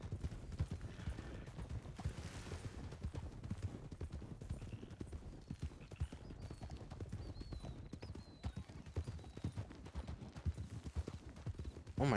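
Horse hooves clip-clopping steadily in the Red Dead roleplay video game, a continuous close trotting rhythm with brief ambient game sounds and no talk over it.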